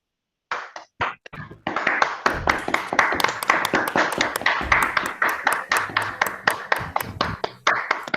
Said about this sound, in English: ask the participants to unmute themselves so that we can thank Gunnar with some